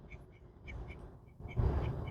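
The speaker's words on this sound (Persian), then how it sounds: "اردک ها رو میبینید، آخه کوچولو موچولو" Ducks quack at a river or lake, a series of short nasal calls repeating in quick rhythm, fairly near, with a louder outdoor rumble and splashing rising toward the end.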